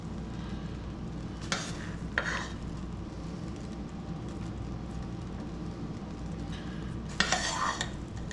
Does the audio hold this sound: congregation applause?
no